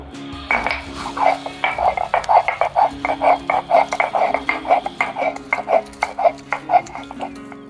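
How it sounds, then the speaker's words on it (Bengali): Peeled amla is ground fine on a stone slab (pata) for homemade chyawanprash, giving close, rhythmic scraping strokes, roughly two per second, each a rasping grind of stone on stone. "এখন আমি মিহি করে পাটায় বেটে নেব।"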